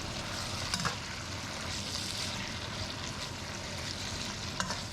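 Lamb browns in batches in a pot for Welsh Chinese lamb noodles, giving a soft, steady sizzle and frying hiss with occasional light stirring clinks, quiet and close.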